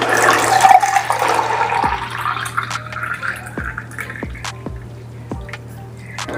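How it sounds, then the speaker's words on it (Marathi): Lemonade with lemon pulp being poured into four large glasses, a broad liquid splash at first that settles into lighter trickles and a series of sharp drips, close and fairly loud over a steady low hum. "सगळे ग्लास मी ओतून घेतो तेही"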